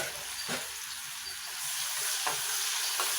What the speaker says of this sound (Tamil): நம்ம வெங்காயம் வந்து பிங்கிஷாக வதக்கிடுங்க